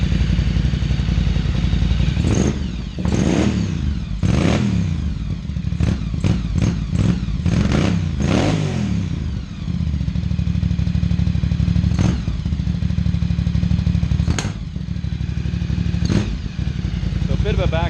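A Ducati 800 Scrambler track bike running on Chinese carburettors idles loudly and unevenly at close range, with a series of sharp popping backfires and blips scattered through the run.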